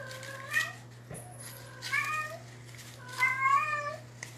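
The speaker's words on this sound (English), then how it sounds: "I have another kitty in heat." A female cat in heat meows repeatedly indoors, three drawn-out, rising-and-falling calls close to the mic over a steady low hum.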